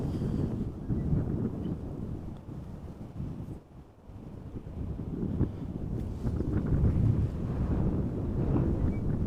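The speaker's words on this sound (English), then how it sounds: "Wind is blowing from the northeast, 14 knots or so." Wind blowing from the northeast at around 14 knots outdoors at Amsterdam Schiphol Airport, a continuous loud rumbling buffet against the microphone that eases briefly midway, then swells again, with no talking.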